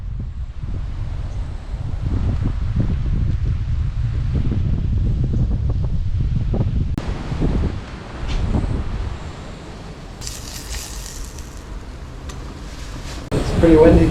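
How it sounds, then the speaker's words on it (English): Wind gusting across a campground kitchen area on Sado Island, a steady broad rumble with flapping and buffeting against the microphone, easing slightly in the second half before a stronger gust at the end. "It's pretty windy tonight"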